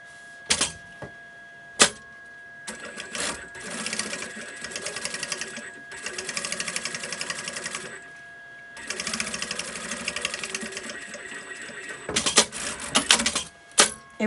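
A sewing machine stitches a padded backpack lining in fast mechanical runs of needle chatter broken by pauses and clicks, loud and close, with a steady hum throughout.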